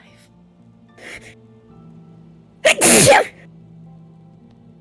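A video game character lets out a single loud sneeze up close, a short burst set against quiet background ambience, with a brief voice saying a name a moment earlier.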